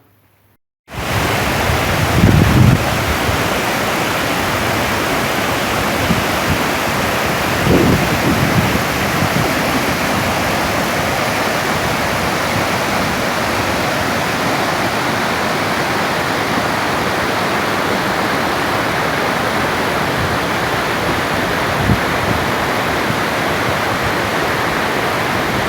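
Steady rushing water of a river flows continuously for nearly the whole stretch, loud and close with a broad, even roar and no voices.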